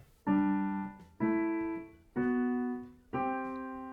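Four piano-like perfect-fifth two-note chords sounded in steady succession, each held briefly and decaying, heard alone without speech.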